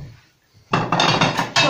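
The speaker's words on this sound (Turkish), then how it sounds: "Ben hemen bir tabak hazırlıyorum size." Dishes and cutlery clatter as garlic yogurt pasta, a Maraş regional dish, is served onto a plate: a quiet lead-in, then a run of close, loud clinks and scrapes over about a second.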